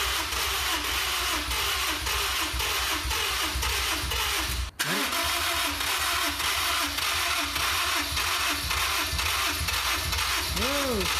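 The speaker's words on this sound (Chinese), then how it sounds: "进入到车内尝试启动车辆，看看发动机的运行状态如何。" A Honda S2000 with very dirty spark plugs cranks and fires up, then settles into a steady, slightly uneven idle with a brief revving swell near the end.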